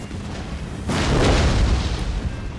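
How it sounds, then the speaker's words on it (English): Rockets burst in a Napoleon Total War battle, a sudden deep boom landing about a second in and rumbling on loudly for the rest of the brief moment over a low battlefield din. "But here comes the rockets now."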